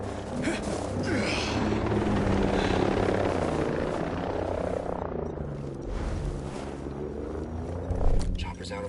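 A helicopter in the military shooter game Ghost Recon Breakpoint keeps up a steady, dense rotor rumble, loud and close, masked in places by other game sounds before a short burst near the end.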